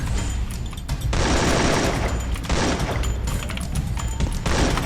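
Rapid bursts of automatic gunfire from the Free Fire battle game, loud and dense in repeated volleys with short gaps, heavy low-end booms throughout.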